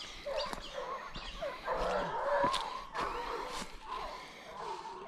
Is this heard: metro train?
no